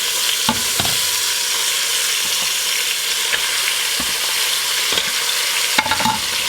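Browned pork meat tipped back into a pressure cooker, giving a steady close sizzle with scraping and stirring knocks scattered through, no talking.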